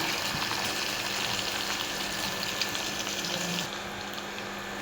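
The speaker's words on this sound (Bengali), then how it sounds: "পেঁয়াজ কুচি, তারপর দিব কাঁচামরিচ, এখন একটু হালকা ভেজে নেব।" Chopped onion and green chilies fry lightly in a pan, a steady close hiss of sizzling oil that runs unbroken and eases slightly toward the end.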